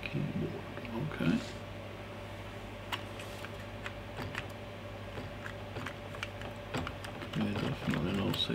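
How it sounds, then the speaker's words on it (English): Keys on a restored Commodore Amiga 500 keyboard are pressed one after another in a slow, uneven series of soft clicks over a steady electrical hum, with someone speaking briefly at the start and end. "I'm just going to have to press through the keys and find out which ones don't work."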